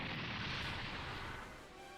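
A faint, broad burst of explosion noise from Super Robot Wars 30 roars briefly and fades over about two seconds, sounding distant and washed out.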